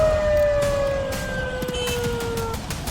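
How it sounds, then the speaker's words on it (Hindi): Wailing sirens of a politician's motorcade moving through the city, a steady pitch sliding slowly downward, loud and close over street rumble, with no speech. "अफरीदी के काफिले सायरन बजाते हुए घूम रहे हैं"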